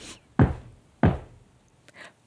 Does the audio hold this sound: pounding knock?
yes